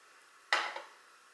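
A Ferris Wheel Press ink bottle gets one quick shake: a short, close rattling burst of about a third of a second, heard alone against quiet.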